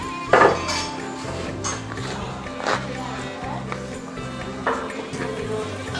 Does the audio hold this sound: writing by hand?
no